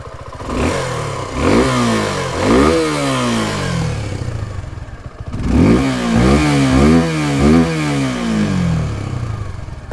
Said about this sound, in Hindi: मैं आपको इसका एग्जॉस्ट नोट सुनाता हूँ